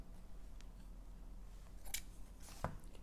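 Scissors snip through crochet yarn with two or three quick, close cutting sounds against a quiet room background; no one speaks.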